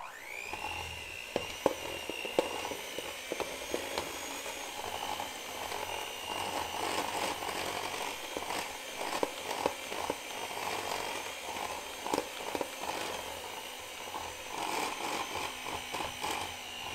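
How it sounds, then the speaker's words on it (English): An electric mixer beats cookie dough with a steady high motor whine throughout, close and continuous, with the beaters clattering and knocking against the bowl at irregular moments. "Then we're gonna use our electric mixer and mix that until everything is incorporated."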